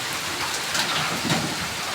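Heavy typhoon rain pours and drums hard on surfaces amid strong wind, a dense, loud, unbroken roar with no voices.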